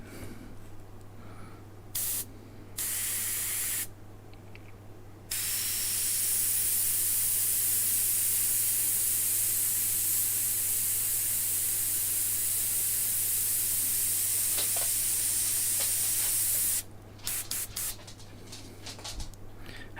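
A spray gun sprays in a workshop, with short on-off hisses at first and then one long continuous loud hiss lasting about ten seconds, ending in a few brief bursts over a steady low hum.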